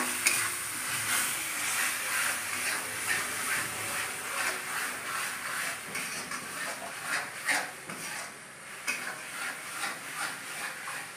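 Green chili paste sizzling in a frying masala for a chicken dish, a steady close hiss broken by repeated scraping stir strokes, with no voices.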